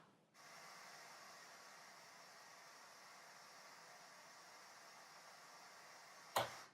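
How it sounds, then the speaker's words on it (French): Steady broadband white noise, a flat hiss holding at even loudness for several seconds, starts abruptly after a short quiet lead-in and ends with a brief sharp burst. "Alors, le bruit blanc, c'est quoi ? En fait, c'est juste un mélange de toutes les fréquences"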